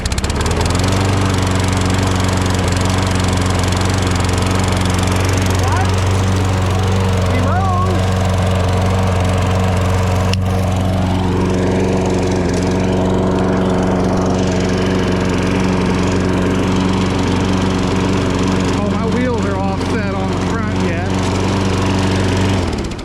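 A John Deere lawn mower with a Briggs and Stratton engine runs steadily and loudly up close, a constant droning hum throughout with brief background noises near the end.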